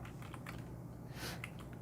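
Keys on a computer keyboard are tapped in a few quick, faint strokes while values are entered in Inventor CAD software, close but quiet over a low room hum.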